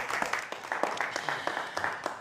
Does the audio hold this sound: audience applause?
yes